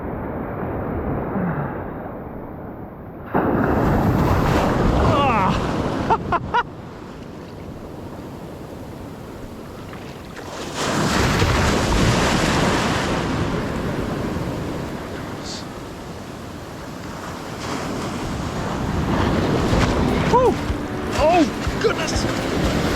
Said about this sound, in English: The waves are getting pretty big.